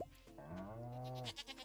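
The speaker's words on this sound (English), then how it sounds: "Baby goat." A baby goat bleats in a modded farming video game, one long wavering bleat heard clearly and alone, followed by a few softer game sounds.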